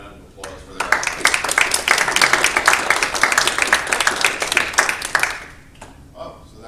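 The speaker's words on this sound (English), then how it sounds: "let's give them and all those up here tonight a round of applause for their efforts" Audience at a mayoral town hall on emergency services applauds in a dense burst of clapping lasting about four seconds, with brief talk before and after.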